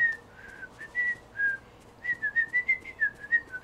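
A character whistles a melody while working in Disney Dreamlight Valley, with clear tuneful whistled notes in short phrases and quick repeated notes toward the end.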